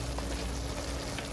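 Seasoned meat for a spicy chili with beans sizzles steadily in a pan, a constant hissing fry with no talk over it.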